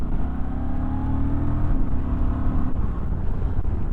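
A 2023 Honda XL750 Transalp motorcycle accelerates hard in sport mode, its engine note rising steadily and loud and close throughout with no talk.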